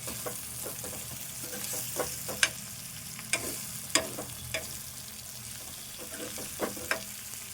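Roasted coriander powder is stirred into a frying brinjal and dried fish curry. A soft, steady sizzle runs under sharp, irregular spoon-against-pan taps and scrapes, close by and fairly quiet.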